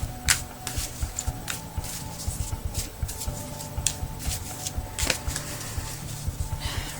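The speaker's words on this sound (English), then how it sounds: "let's shuffle the cards and see what comes up." Tarot cards shuffled by hand, a run of soft rhythmic riffles and flicks with papery slaps, close and moderately quiet, repeating steadily across the clip.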